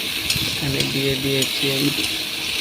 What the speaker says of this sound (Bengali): আলুগুলো দিয়ে আবার ভালো করে ভেজে নেব 10-15 মিনিট।